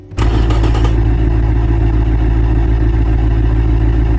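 A tuned Mercedes M113 V8 with individual throttle bodies, from the game Automation, fires up and holds a loud, steady, deep idle drone with no voices.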